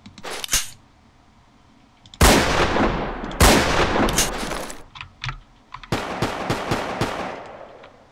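Rapid bursts of gunfire in the online shooter Polywar, with loud sustained volleys separated by brief pauses, several close together near the end.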